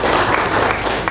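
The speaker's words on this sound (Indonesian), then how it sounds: "Tepuk tangan." An audience at a regent's speech event in Gianyar, Bali, claps in dense, steady applause that fills the short moment.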